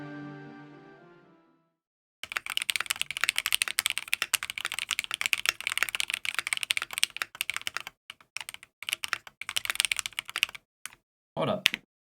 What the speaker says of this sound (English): that's by doing a quick typing test